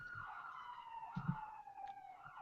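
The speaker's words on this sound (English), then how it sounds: "as I hear sirens in the background" Police siren wailing in the background, a steady gliding tone that slowly falls in pitch, faint and distant beneath low room noise.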